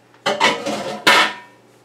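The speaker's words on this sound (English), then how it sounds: "I'm gonna take the drained apples and I'm gonna put them back into my pan." Drained apples are tipped back into a pan, giving two clattering bursts of metal and fruit knocking against the pan, close and clear with no talk.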